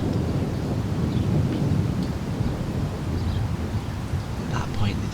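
Steady rain with low thunder rumbling through a wet night in a forest, a dense continuous wash that stays loud from start to finish with no voices.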